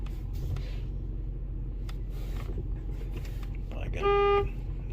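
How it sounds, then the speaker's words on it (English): Horn of a 2011 Ford Ranger 4.0 4x4 pickup gives one short, loud honk near the end, heard close up over low engine idle and cabin noise. "Horn works."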